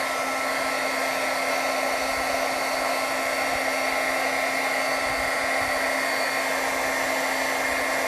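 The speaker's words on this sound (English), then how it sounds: "Heat tool, allow the wax to intermix with each other." A heat tool blows steadily on a gourd to melt and blend its protective wax, a loud, constant whooshing drone with a low hum that holds without a break.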